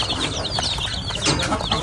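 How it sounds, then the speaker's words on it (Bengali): Native country chickens at a poultry farm cluck and chatter in a dense, continuous flock sound close by, with possible brief wing flutters and no speech. "এই মুরগিগুলোকে দেখলে খুব ভালো লাগে।"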